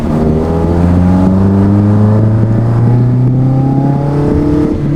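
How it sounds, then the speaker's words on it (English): A Toyota AW11 with a 4AGE engine running bike carbs accelerates hard, its loud, close engine note climbing steadily in pitch for several seconds with no talking. "And then we're gonna give it some throttle."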